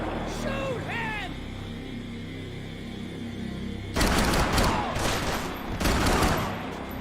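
Gunfire bursts in the Max Payne 3 video game, loud rapid volleys from about four seconds on, with a second burst near six seconds, over game ambience and voices.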